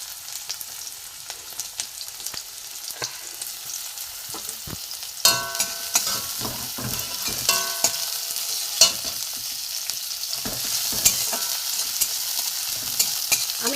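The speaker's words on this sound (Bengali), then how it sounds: "দিয়ে আমি পেঁয়াজ কুচি দিয়ে দেবো, পেঁয়াজ কুচি, কাঁচা লঙ্কা একসাথে দিয়ে দিলাম। দিয়ে আমি একটু ভালো করে ভেজে নেব।" Chopped onion and green chilli fry in mustard oil with a constant crackling sizzle. A spatula stirs and scrapes the pan, and the stirring grows busier and louder midway with no talking.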